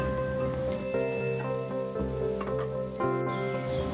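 Food cooking over a medium flame after a little salt goes in: a soft, continuous sizzle with faint patters and a few utensil touches, and no talk.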